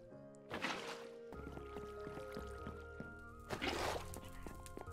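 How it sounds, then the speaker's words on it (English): Water being added in the Minecraft modpack SevTech Ages, with two short splashy pours and wet squishing and dripping sounds over steady background game music. "Add some more water just in case."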